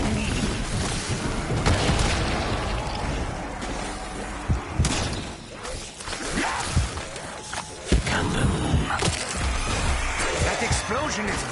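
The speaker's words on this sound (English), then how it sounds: "That explosion is very bright." Heavy booms and crashes from explosions on the Revelation map of a video game during a high-round attempt, repeated bursts over a dense, constant game din with a voice at times.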